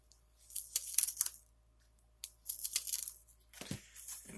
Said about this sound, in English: So let's cut that sticker.